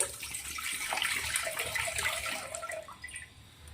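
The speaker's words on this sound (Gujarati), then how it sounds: "તો હવે આપણે સૌથી પહેલાં પાણી લઈ લેવાનું છે" Water is poured into a vessel to make chia seed sharbat, a steady, close splashing pour lasting a few seconds with no voices.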